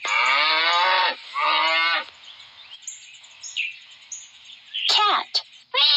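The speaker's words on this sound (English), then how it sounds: "Cow." A cow moos in two long, loud, drawn-out calls, with quieter high chirps and a brief sharp call near the end.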